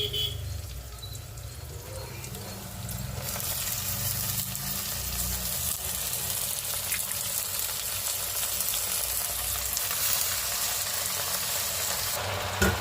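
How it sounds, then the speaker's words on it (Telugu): Chopped amaranth and spinach leaves frying in oil produce a dense, continuous sizzle that swells louder after the first few seconds and holds steady, close-up, with faint low background noise underneath. "తోటకూర పాలకూర తీసుకున్నాను ఇంకా శుభ్రం కడిగేసి ఇంకా సన్నగా కట్ చేశాను ఇంక ఇవైతే ఇంకా ఆయిల్లో బాగా ఫ్రై చేసుకున్నాం"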